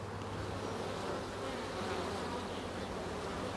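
Honey bees buzzing around a hive during queen rearing for Manuka honey, a dense continuous drone from many insects, steady and moderately close with no voices.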